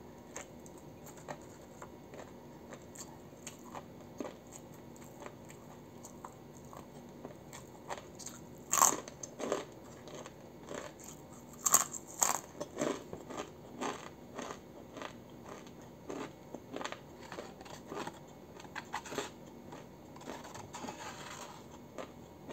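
Crunchy rib knuckle bitten and chewed up close in a quiet room, with a run of sharp cracking bites and steady wet chewing, no talking.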